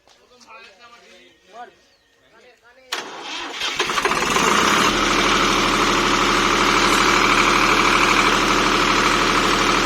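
A diesel generator (DG) engine at a shop cranks into life and then runs steadily, a loud continuous low drone with a constant hum after some talk in the background before it starts.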